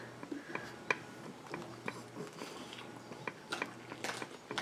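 Quiet close-up chewing of coleslaw, with soft wet crunches and bites repeating irregularly over several seconds at low level, no talk.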